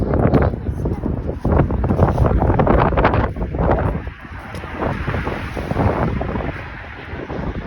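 Strong wind during snowfall buffets the microphone in loud rumbling gusts that rise and fall, with a brief lull midway, and voices are faintly mixed in.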